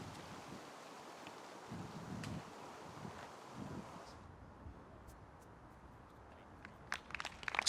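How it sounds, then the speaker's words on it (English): Wind gusting across an open disc golf course, a faint, uneven rushing with soft bursts buffeting the microphone, distant and low without talk. "See the wind picking up just a bit."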